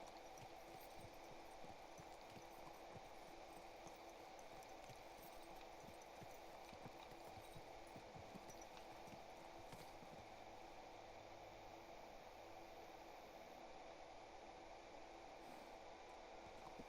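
Faint, quick horse hoof clip-clops in a video game, in a steady trotting rhythm under a constant ambient hum, quiet and continuous with no talking.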